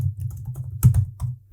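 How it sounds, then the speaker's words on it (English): A short burst of keyboard typing, a few quick clicks at close range, with a denser cluster of louder keystrokes in the middle, during a Swift programming conference presentation at UIKonf 2020. "do a little bit of typing"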